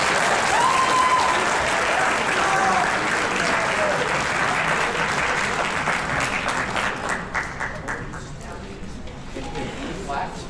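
A concert audience gives a jazz band and its director loud, sustained applause at a spring jazz concert, with a few whoops and voices over the clapping before it tapers off.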